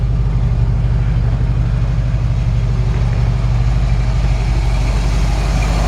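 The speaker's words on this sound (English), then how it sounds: "Nice sounding exhaust. Not overly, it's not overly aggressive," A 1955 Ford F100 pickup with a V8 idles through its exhaust, a loud, steady low rumble with a fine rhythmic pulse, continuous and close throughout with no talk.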